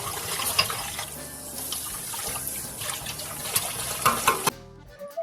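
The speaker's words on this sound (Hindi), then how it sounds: "अगले दिन शाम को रसोई से बर्तन धोने की आवाज़ आती है।" Cartoon sound effect of dishes being washed in a kitchen sink: running tap water with clinks and splashes, steady and close, cutting off abruptly near the end.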